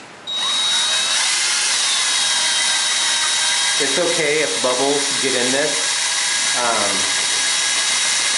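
A power drill mixes clear epoxy resin for a river table at low speed, a steady high-pitched whirring that runs loud throughout while a person talks over it.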